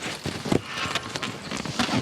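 Horse hooves clatter and thud irregularly on hard ground as horses are roughly handled while being broken in, several quick strikes close by, with scuffling movement in between.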